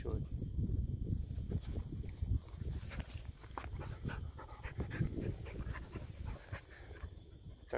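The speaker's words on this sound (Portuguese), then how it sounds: "E os nossos cachorros." Dogs panting on a mountain walk, with rapid breathy pants and footsteps on the trail, close and fairly steady under light outdoor background noise.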